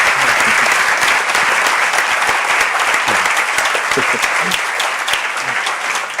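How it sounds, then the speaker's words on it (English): An audience at an art and science awards conference claps loudly and steadily, a dense, sustained wash of applause from a large crowd with faint voices mixed in, lasting the whole stretch. "So a round of applause, please, in the name of the 15 years of VIDA."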